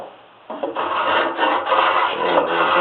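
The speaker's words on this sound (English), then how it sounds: "final size with spoke shave" A spokeshave rasps steadily across wood while shaping a part for an 18th-century turret top tea table, a close, continuous scraping that starts after a quiet moment and keeps up evenly to the end.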